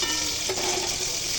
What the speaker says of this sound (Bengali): এখন সিদ্ধ লাউগুলো আগে ভেজে নেব